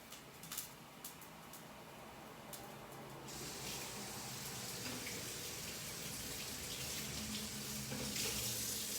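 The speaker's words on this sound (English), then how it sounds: "I'm going to rinse them very quickly." Tap water runs steadily over canned beans being rinsed in a kitchen sink, a continuous close hiss of flowing water that grows fuller and louder partway through, with no talking.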